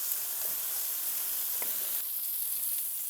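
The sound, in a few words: chicken pieces browning in a frying pan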